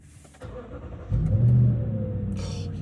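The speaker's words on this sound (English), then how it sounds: "so this is a cold startup" A Lexus GX with a muffler delete fires up from cold, the exhaust catching and swelling into a deep, loud rumble that settles into a steady, slightly uneven idle close by.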